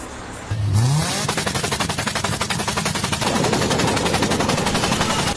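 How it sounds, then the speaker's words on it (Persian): Car with a torn factory muffler roars to life, then a loud harsh exhaust crackles in rapid machine-gun-like pulses as the engine revs, close and steady for several seconds. "صدای ناهنجار اگزوست"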